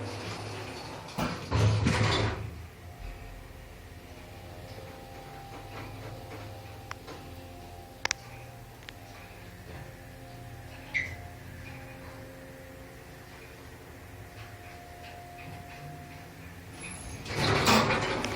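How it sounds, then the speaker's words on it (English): Dover hydraulic elevator motor at Custer Park in Plano, Texas, a steady low hum running under a quiet interior, with door and mechanism clunks at the start and end and a few small clicks in between. "let's be quiet and hear this motor"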